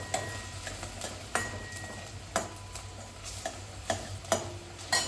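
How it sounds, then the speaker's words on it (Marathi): Chopped onion sautéing in oil for Maharashtrian misal, a low, quiet sizzle broken by regular sharp clinks and taps of a spoon against the pan, several evenly spaced strikes, close and alone without speech. "परतून घ्यायचं तेलामध्ये"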